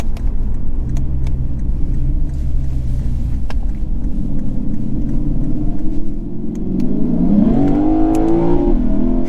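A 2022 Lexus IS500 V8 revving up toward its rev limiter, a loud close rumble that climbs steadily in pitch into a rising whine near the end.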